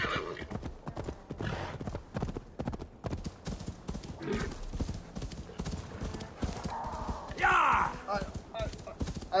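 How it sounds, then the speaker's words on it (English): Horse hooves clip-clop steadily in a game soundscape, with a loud whinny rising near the end; some talk mixes in intermittently. "Get on the fucking horse."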